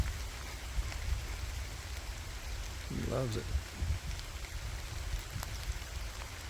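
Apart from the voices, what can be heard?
rain falling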